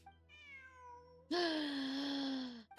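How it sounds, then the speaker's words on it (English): A cat in the video game Genshin Impact meows twice: a short, softer call, then a longer, louder, drawn-out meow close up, with no talking. "Look, a cat."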